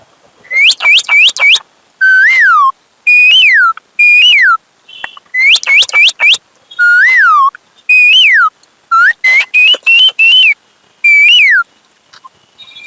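A person whistles an imitation of an Asian koel's call, rising and falling notes in short repeated phrases, loud and close with brief pauses between.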